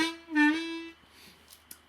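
Harmonica 2-hole draw note with a dip for expression: a single bent, sliding reed tone lasting under a second, close and moderately loud, followed by quiet room noise and faint small clicks.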